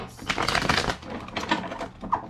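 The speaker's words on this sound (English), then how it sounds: "two more shuffles" Quick bursts of riffling tarot card shuffles, close and crisp, in two or three rapid flurries over a couple of seconds.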